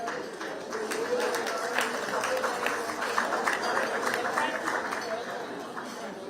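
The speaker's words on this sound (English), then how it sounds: "A round of warm applause for Dr. Jessica Kirini." Applause at a gala dinner rises into a steady crowd clapping of many hands, moderately distant, mixed with chatter and a voice over it.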